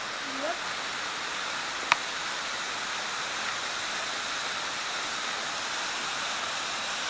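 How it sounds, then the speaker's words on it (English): Steady rushing roar of Florida's highest waterfall, a 73-foot drop into a sinkhole, heard as constant broadband water noise throughout, with one brief sharp click near the start and no talk. "Florida's highest waterfall."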